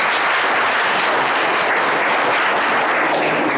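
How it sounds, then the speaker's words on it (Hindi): An audience at a Hindi motivational talk breaks into dense, sustained clapping in support of a participant named Aakash, a steady wash of applause with no voices rising above it. "देखो ये तालियां बजाओ"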